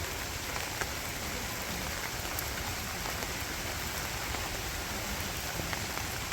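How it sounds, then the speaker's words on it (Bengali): Steady rain pours down in a dense, even hiss across the whole stretch, close and constant, with no voices and no breaks. "আপনাদের একটু বৃষ্টির ভিডিওটা দেখাই"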